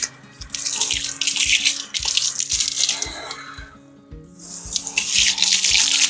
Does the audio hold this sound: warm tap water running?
yes